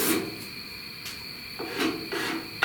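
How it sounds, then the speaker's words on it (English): A cheese grater rasp scrapes across hardened body filler on a truck cab corner, a few separate close rasping strokes with short pauses between them and no talking. "the filler gets hard enough that your cheese grater won't be able to bite in anymore"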